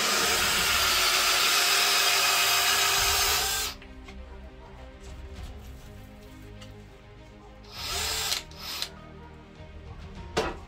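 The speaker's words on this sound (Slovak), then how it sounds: "Mierne spomalovanie, ale vŕtačka s tým nemala absolútne žiadny problém." A Metabo SB 18 LTX BL QI cordless hammer drill whines loudly and steadily for several seconds drilling spruce wood, then stops, leaving quieter handling noise and two brief bursts of drilling near the end.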